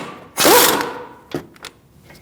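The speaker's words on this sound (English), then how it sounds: "thin-walled socket and a swivel to get these two bolts out to remove this bracket" A thin-walled socket on a swivel loosens the brake caliper bracket bolts on a 2016-2019 Chevrolet Cruze front brake: one loud, harsh grinding burst up close, then a few short metallic clicks, with no talking.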